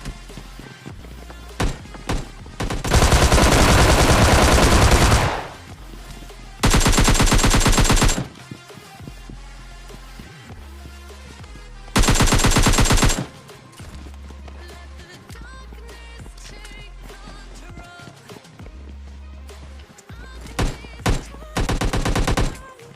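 Bursts of automatic gunfire crackle in a tense PUBG Mobile Lite fight, loud sustained volleys of a few seconds each separated by quieter stretches of footsteps and scattered single shots.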